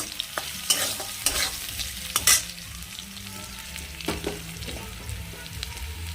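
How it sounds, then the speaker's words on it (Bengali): Potatoes are stir-fried in a pan with salt added, giving a continuous close sizzle broken by several sharp spatula scrapes and clinks against the pan, with no voices. "আলুটা প্রায় ভাজা হয়ে এসছে দেখতেই পাচ্ছ"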